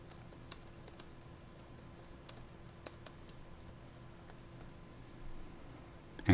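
Light, sparse keystrokes on a computer keyboard as a visitor's name and company details are entered, faint isolated clicks over a quiet room hum with no talking.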